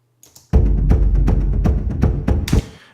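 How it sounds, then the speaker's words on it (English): Filtered drums in a sci-fi trailer music cue, heavy low hits with the top end rolled off, pounding in a steady rhythmic pattern for a couple of seconds after a brief quiet start, then cutting off. "And these drums, I've filtered them quite a bit,"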